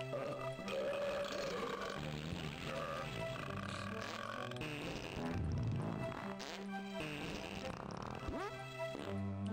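Cartoonish burp sound effects from a Nickelodeon Clickamajigs game, a string of gurgling belches and grunts layered over busy background music, fairly quiet overall.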